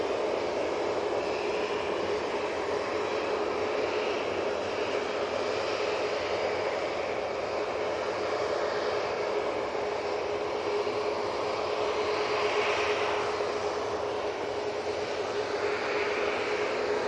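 A Boeing 737 MAX 8 departing Manchester Airport, a steady, moderately distant jet roar that rises slightly late on, heard without speech.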